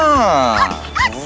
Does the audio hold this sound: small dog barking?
yes